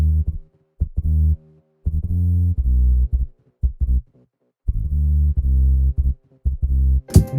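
A deep synth bass line plays alone in short rhythmic phrases, notes starting and stopping with brief gaps of silence between them.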